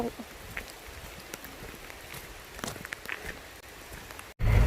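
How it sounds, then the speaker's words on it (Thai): Steady patter of rain falling on a surface, with scattered drops throughout and a sudden louder burst of noise at the very end. "ฝนตก"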